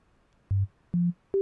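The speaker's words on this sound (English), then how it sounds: "This is a sine wave." A pure sine wave tone from the Structure Free synth plugin plays as three short, clean notes stepping upward in pitch, each sustained briefly, with silence between them.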